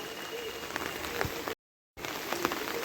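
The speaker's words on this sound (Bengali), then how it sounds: "একবারে মুষলধারে বৃষ্টি হইতেই আছে" Heavy downpour in Dhobaura hisses in a dense, steady wash of rain, broken by a short total dropout halfway through before resuming.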